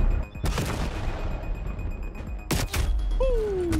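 Two sharp, loud sniper rifle shots in the game Call of Duty, spaced about two seconds apart, each booming over a low rumble of game ambience, followed by a rising whine.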